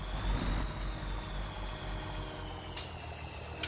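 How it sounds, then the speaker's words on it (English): A tractor engine in Farming Simulator 19 runs steadily with a low, throbbing drone and a faint higher whine. Two short bright clicks break in near the end, and no one speaks. "This tractor is doing awesome."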